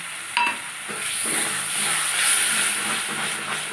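Tomato paste frying in oil with spice masala while cooking a Bengali egg, potato and eggplant curry, giving a steady broadband hiss and sizzle throughout, with a brief clatter near the start.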